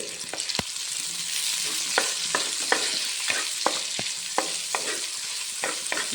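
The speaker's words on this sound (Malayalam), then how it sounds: "നന്നായി ഇളക്കാം നല്ല വലിയ ചട്ടിയാണ്" Pork pieces frying in a large pan with a pinch of salt, a steady sizzle broken by sharp clacks and scrapes of a spoon stirring at irregular intervals, close and fairly loud, with no talking.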